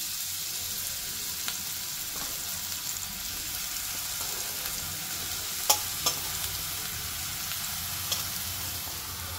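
Ridge gourd sizzles steadily in hot oil in a pan for tomato chutney, with a few sharp scraping clicks as it is stirred and no talking.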